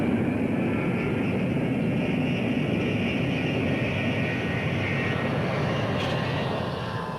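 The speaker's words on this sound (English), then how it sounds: "We gave it the power and took off," Boeing 707 jet engines at takeoff power, a loud continuous broadband roar with a steady rushing drone that holds for over seven seconds, heard alone without talk.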